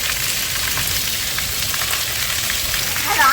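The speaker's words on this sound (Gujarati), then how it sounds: "એટલો વરસાદ છે" Heavy rain falls in a village during a thunderstorm, a dense and steady hiss of downpour that is loud and continuous, with no talk.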